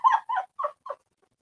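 A dog whimpers and gives a few short yipping barks, four quick high-pitched bursts close up that grow shorter and softer before stopping, with no one talking.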